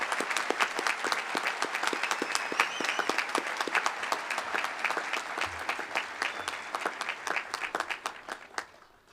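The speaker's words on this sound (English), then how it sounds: "Please join me in giving these incredible adults a round of applause" A crowd at a high school graduation ceremony claps steadily throughout, a dense wash of applause that holds for several seconds and then tapers off at the end.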